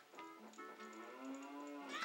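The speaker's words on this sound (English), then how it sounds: "And yes, you can hear the cow." A cow moos inside a village in The Legend of Zelda: Ocarina of Time, a clear, drawn-out bovine call with a couple of short bursts leading into it, heard alone without any talk.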